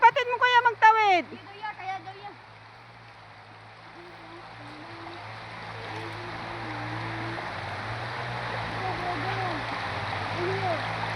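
Running water of a small river swollen after heavy rain, a steady broad wash that builds and stays fairly loud as children wade across, with children's voices heard near the start.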